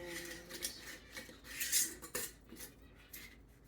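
Metal and glass clinks of a lid being fitted onto a container of homemade garlic scape salt in a kitchen, a few close, sharp taps and scrapes over about four seconds with no talking.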